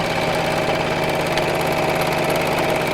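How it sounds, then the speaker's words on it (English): A sewing machine stitching down the side of a fabric piece, a steady close mechanical whir running without pause. "just sewing all the way down the side"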